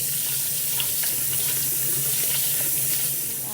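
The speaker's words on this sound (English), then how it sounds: "Now you're gonna rinse them off." Steady stream of tap water running into a sink while chilies are rinsed for pork and jalapeño tamales, a constant close hiss with faint splashes and no speech.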